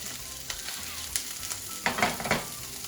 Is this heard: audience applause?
no